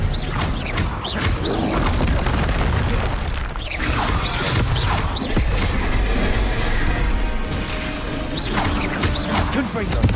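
Spell blasts and impacts in the Hogwarts Legacy video game land as repeated booms and crashes with whooshes, under steady talk casting the spells.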